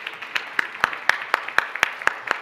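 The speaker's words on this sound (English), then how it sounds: "let's give a big round of applause" Rhythmic clapping at a memoir book event honouring Professor Tinyiko Maluleke, about a dozen sharp claps in an even, unison beat, fairly close and clear against a quiet background.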